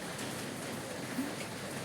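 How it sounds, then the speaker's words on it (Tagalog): Rain falling outdoors near a lighthouse, a steady close hiss of drops on surfaces that holds at an even level throughout. "Hinto din yan, di magtagal yung ulan."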